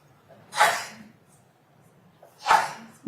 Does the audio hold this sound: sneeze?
yes